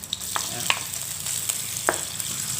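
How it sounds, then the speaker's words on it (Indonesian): Anchovies (teri) frying in oil for sambal, a continuous close sizzle with sharp crackles and pops and occasional stirring scrapes. "Terinya kita goreng dulu hingga kering"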